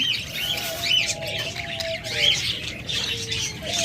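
Pet lovebirds and budgerigars in a cage chirp and squawk continuously, with overlapping high tweets and calls at close range.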